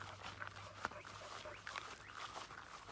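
Several dogs bark from kennels on a farm with livestock guardian dogs, faint and distant, with a few short yips and whimpers over a low steady background hum.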